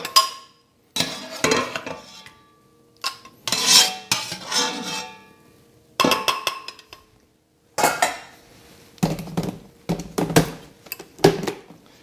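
Cooked parsnip pieces tumble into a blender jar in a run of separate clinks and knocks of utensils against glass and metal, close and fairly loud with quiet gaps between, no voices.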